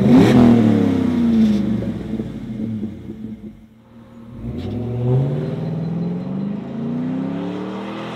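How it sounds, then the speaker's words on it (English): A car engine revs through a Flowmaster Delta Flow muffler, rising in two loud sweeps: a deep, aggressive exhaust roar climbs, drops away near the middle, then builds again and holds. No voices. "It's the perfect choice for those who want an aggressive exterior tone but desire a quieter interior sound."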